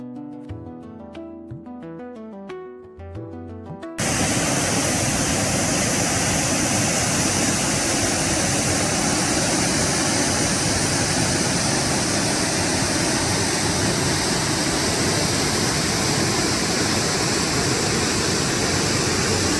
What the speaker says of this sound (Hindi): और इस वाटरफॉल को भीमकुंड भी कहा जाता है।